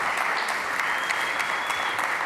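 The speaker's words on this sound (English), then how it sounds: "please give him a round of applause" Applause for a speaker rises from a conference crowd at a blockchain event: a continuous, fairly loud patter of many hands, sustained evenly throughout with no talk.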